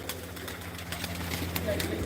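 Pigeons in a loft belonging to Jassi Madhpur coo softly and steadily, faint against a low background hum.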